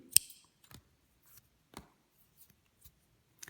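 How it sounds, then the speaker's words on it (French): Scissors snip crochet yarn with one sharp, close cut, followed by a few faint small clicks and handling noises in an otherwise quiet room. "Couper notre fil."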